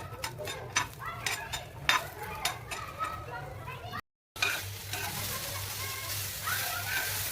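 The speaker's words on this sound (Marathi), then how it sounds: "थोडंसं याच्यात तेल टाकायचं, आपण भाजून घेऊया छान।" Food roasting in oil in a pan while being stirred for a non-vegetarian dish, with scraping utensil strokes and a steady low sizzle, briefly cut off midway and then resuming louder.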